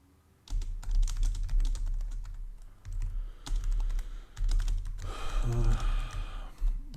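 Computer keyboard keys clatter in quick irregular bursts while someone codes during a LeetCode Weekly Contest, close and steady, with a voice murmuring over the typing.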